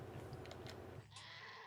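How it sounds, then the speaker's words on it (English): A goat bleats in the Might and Magic IX video game, one short wavering cry ringing out clearly after a brief stretch of background game sound. "Oh, it's a sheep? It's a goat."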